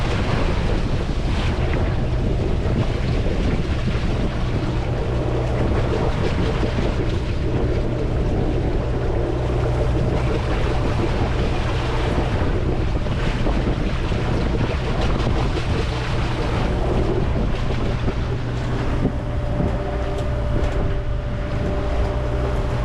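Sailboat crossing the Skagerrak in building seas, with a constant roar of wind buffeting the microphone over rushing water and waves slapping the hull, loud and unbroken throughout.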